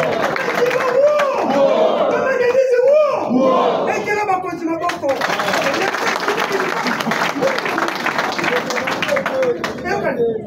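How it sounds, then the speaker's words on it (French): Audience applause at a ceremony with a minister attending the National Museum, loud sustained clapping mixed with crowd cheers and shouting, filling the whole stretch, with voices over it. "que je vous demande d'applaudir"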